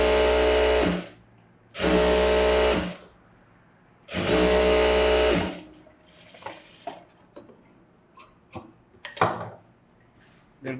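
A sewing machine runs edge stitching on a blouse in three loud bursts of about a second each, whirring close by, followed by quieter clicks and handling noises from the fabric and machine.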